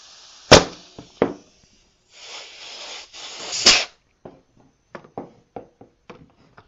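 A pneumatic nail gun drives 1.5-inch fasteners into heavy-duty trim, giving two sharp pops and a third later one, with compressed-air hisses in between, followed by a scatter of fainter clicks and taps.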